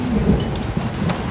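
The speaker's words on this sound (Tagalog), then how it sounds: "Ngayon ay umulan dito sa Saudi." Rain falls steadily in Saudi Arabia during a rare downpour over a garden of tomato plants, a continuous close hiss of drops with low rumbling undertones and no speech.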